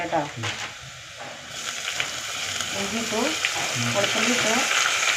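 Ginger and garlic fry in a pan with a steady, close sizzle that swells slightly over a few seconds, with occasional stirring scrapes and clinks in the background.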